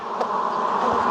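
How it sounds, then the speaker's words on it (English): Honey bees buzz in a dense, continuous hum inside an open hive during a weekly inspection while honey supers are added, close and steady with no talking. "hopefully it will bring all these bees from the second box to draw this honey"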